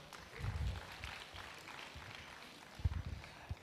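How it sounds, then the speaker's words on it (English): Applause from a conference audience for an honored guest, soft and somewhat distant clapping with a couple of louder bursts, fairly quiet overall in a large room. "A round of applause once again for her."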